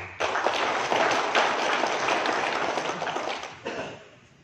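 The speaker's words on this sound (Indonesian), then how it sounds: "Saya beri tepuk tangan untuk Pak Dandim." A roomful of people at a press focus group discussion claps for the district military commander, a dense burst of applause that swells quickly, holds for a few seconds, then thins and stops.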